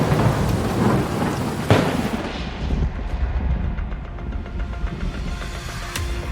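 A loud thunderstorm with heavy rain and hail in the central region of Rio Grande do Sul pours down steadily, with a sharp crack of thunder partway through and rumbling continuing under the downpour.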